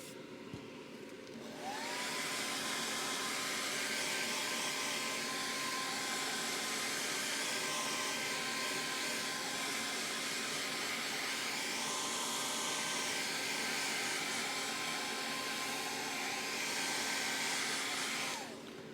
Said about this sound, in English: we're just going to let that dry with the hair dryer